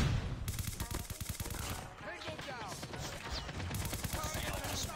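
ICR rifle gunfire in COD Mobile, sustained rapid bursts of shots with brief pauses, loud and dominant throughout.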